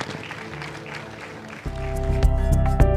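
A congregation at a fasting prayer service claps together in thanks to God, a burst of dense, close applause that starts partway through and builds loud with a few sharper peaks.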